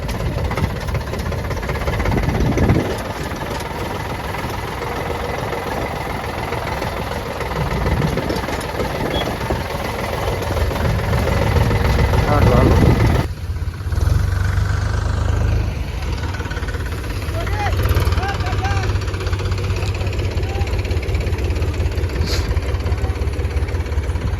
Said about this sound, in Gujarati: દોઢસો ટ્રેક્ટર ઉભ્યા છે